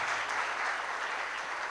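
Audience applause at a talk on transitioning out of employment, a steady even wash of clapping with no voices, moderately loud throughout.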